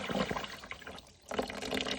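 Water from a hot water heater drain pours steadily into a bucket, a continuous close splashing rush that briefly thins out midway before surging back to full flow.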